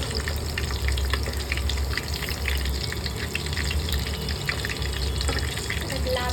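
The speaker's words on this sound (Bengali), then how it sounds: "এগুলো ভাজা হচ্ছে এখন, এবার এটাকে উল্টানোর পালা।" Pieces of food fry in hot oil, giving a close, steady crackling sizzle that runs unbroken for several seconds, with a faint clink of a utensil near the end.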